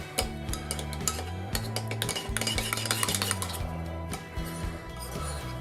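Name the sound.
mixing crab salad with salt, lime and Calvados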